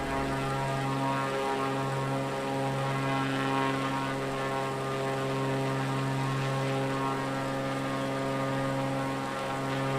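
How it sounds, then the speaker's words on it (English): A propeller airplane climbs in Flight Simulator, its engine droning loud and steady with a strong, even harmonic hum that holds unbroken throughout. "this plane is set up to just want to do nothing but climb"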